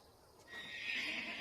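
A horse neighs once, a rising whinny that swells and holds near the end, moderately close.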